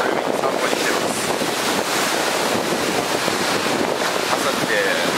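Strong ocean waves on a beach in Bali in the morning, a steady broadband wash of surf with wind buffeting the microphone throughout, loud and continuous with no talk.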